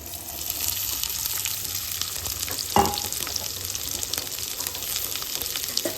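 Sliced onions fry in hot oil in a pan with a steady close sizzle and hiss, broken by a single sharp knock of a utensil midway.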